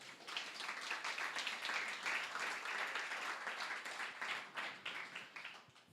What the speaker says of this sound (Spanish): ¿Qué tal si le damos un aplauso al Señor,